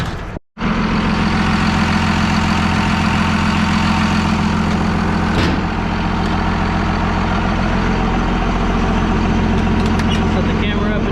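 A 1966 International Loadstar truck engine idles steadily nearby with a low, rumbling drone that continues throughout, briefly cut off near the beginning.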